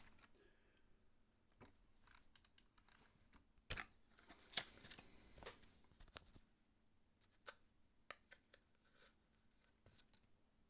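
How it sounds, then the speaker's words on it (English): Quiet snips of scissors cutting seat moquette fabric panels for model buses and trains come in irregular bursts, with pauses and faint handling noises between cuts. "now we can cut out the individual panels with a pair of scissors"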